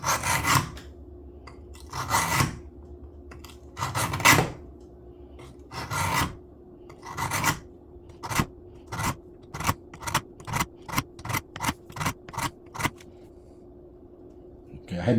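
A dull pocket knife is being sharpened on a whetstone, its blade rasping across the stone in repeated scraping strokes. The strokes start slow and spaced, then turn quick and rhythmic. Someone talks in the gaps early on.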